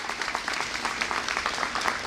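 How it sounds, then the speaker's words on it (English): An audience claps and applauds steadily for a couple of seconds at a public announcement marking completion of the Kennedy Expressway project in Illinois. "You should clap."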